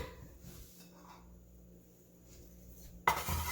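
A big metal saute pan clanks and scrapes softly for a few seconds, then a louder clatter as the pan is set down near the end.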